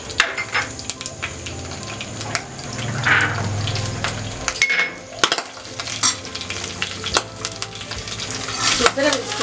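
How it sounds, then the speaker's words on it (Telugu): Green chillies and dry red chillies frying in hot oil for coconut chutney, a sustained crackling sizzle broken by spoon-stirring scrapes and sharp pops, close and fairly loud throughout with no talking. "ఆయిల్ వేడెక్కిన తర్వాత పచ్చిమిరపకాయలు వేసుకోవాలి. ఎండుమిరపకాయలు వేసుకోవాలి."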